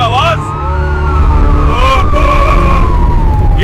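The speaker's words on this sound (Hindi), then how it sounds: "ये तो एक गाड़ी नहीं पूरा काफिला लग रहा है" Sirens from a convoy of approaching police vehicles, wailing tones gliding over a rumbling engine and road noise, loud and close for a few seconds.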